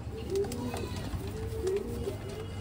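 A female Punjabi pigeon coos softly a couple of times over a low background hum, the calls close and gentle.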